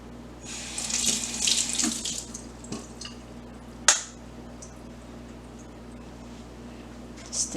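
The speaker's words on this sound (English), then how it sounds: "I'm gonna put a little water in my hand" Tap water runs into a cupped hand beside a bread-dough workbench, a hissing splashing stream in bursts over a low steady hum, with a sharp clatter near the middle and no talking.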